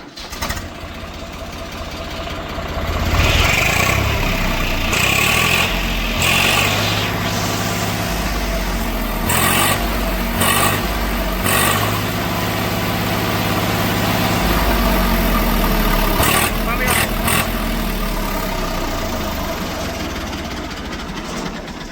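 A tractor with a Kirloskar engine cranks and catches, then settles into a loud, steady diesel idle with a low rhythmic chug that runs close and continuous to the end.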